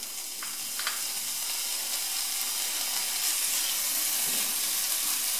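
Anchovies and walnuts fry in oil for a bagna cauda sauce with a continuous bright sizzle, while light taps and scrapes of stirring come through now and then.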